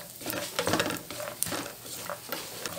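Almonds and walnuts frying in a pan, giving a steady crackling patter with scattered light sizzling pops and occasional stirring clinks throughout.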